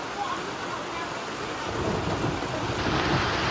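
Heavy rain and hail pound down during a thunderstorm in hilly Rolpa, Nepal, a dense, steady roar that swells louder in the second half, with no clear separate thunderclap.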